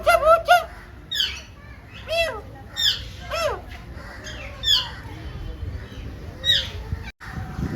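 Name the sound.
birds calling at Ahmedabad zoo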